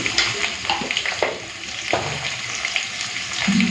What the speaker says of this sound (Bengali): আলু ভাজার সময় নুনটা দিয়ে দিলাম